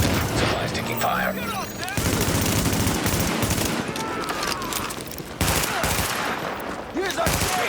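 Rapid automatic gunfire from The Division game, sustained machine-gun bursts with overlapping shots and brief pauses, loud and near, with a voice briefly cutting through.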